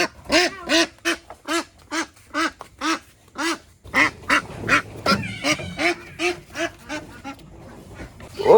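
Domestic ducks being caught near a pond quack loudly in a rapid series of close, nasal calls, with a scuffle and some voices in the latter half.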